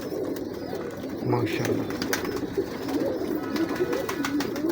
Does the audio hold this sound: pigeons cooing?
yes